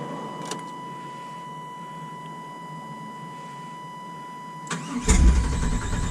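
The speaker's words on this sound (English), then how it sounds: "I'm gonna cycle on the key a couple times just to try and prime the pump" An ignition key is cycled on an OBS truck to prime the fuel pump: a steady electronic tone hums, then a click and a low, rising mechanical rumble close by near the end.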